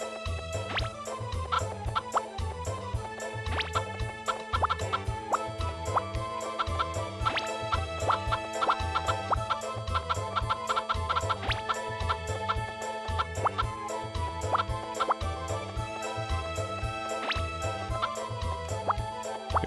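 Chickens cluck in a farm game, the calls popping up as short, repeated clucks over a steady, looping musical background that runs the whole time.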